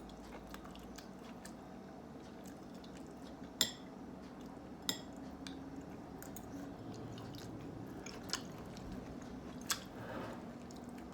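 Chewing on cooked bitter gourd (ampalaya), faint and close, with soft mouth sounds and a few sharp clicks of cutlery against a plate spread through a quiet room.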